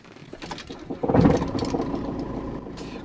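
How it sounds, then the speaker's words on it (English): A 2005 Citroen Xsara Picasso engine is started, with a soft starter whir before the engine catches and settles into a close idle with a light rattle, no voices. "Quite a silent starter, but bit of a rattle to it."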